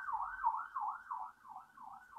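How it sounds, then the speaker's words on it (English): An emergency vehicle siren wails outside in a steady rising-and-falling cycle, about two swoops per second, loud and continuous with no voices over it. "Just wait for the siren."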